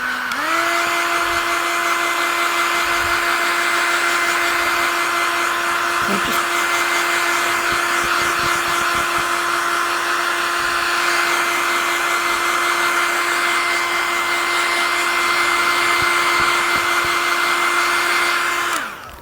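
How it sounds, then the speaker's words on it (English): A hairdryer blows steadily on masking fluid on a painting, a loud, close, unbroken whirring drone lasting the whole span with faint background sounds beneath. "I'm going to just give it a blast with the hairdryer"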